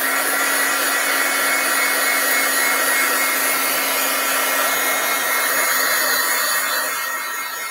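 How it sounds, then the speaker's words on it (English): A heat tool blows steadily and loudly to dry stamp ink on glossy cardstock, a constant close whirring hiss with a faint hum that lasts the whole time and eases slightly near the end. "I'm going to heat that up so that ink can dry."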